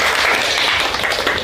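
High-school students clap their hands together in a classroom, a dense burst of overlapping applause that stays loud and steady for the whole moment.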